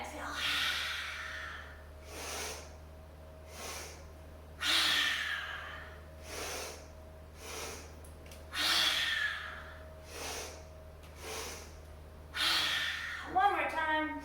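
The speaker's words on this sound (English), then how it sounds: "this is our breath of joy. And so this is where we're going to breathe in twice and then exhale." Yoga breath of joy: repeated rounds of two quick, sharp nasal inhales followed by a long audible exhale, close and steady over a low hum. Some rounds have sighing or vocal breath tones.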